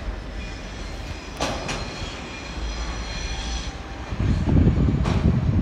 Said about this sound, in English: There's some sort of freight train.